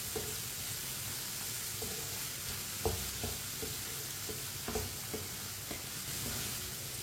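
Chopped red chillies and tomatoes fry in a pan with a steady, loud sizzle and hiss throughout, broken by a few soft clinks and scrapes of stirring.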